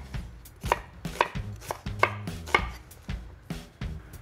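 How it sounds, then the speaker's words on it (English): Two red onions roughly chopped with a knife on a board, about nine sharp, evenly paced chops heard up close with no talk. "we're going to roughly chop 2 red onions,"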